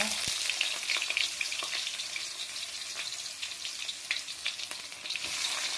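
Dry red chillies, garlic and ginger hiss and crackle loudly in hot oil, a close, continuous sizzle with a few faint stirring taps, no voices.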